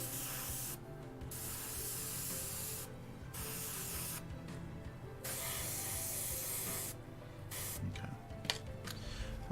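Airbrush spraying thinned Pro Acrylic paint onto a WizKids Beholder miniature, a steady close hiss in long bursts broken by short pauses, with no talking.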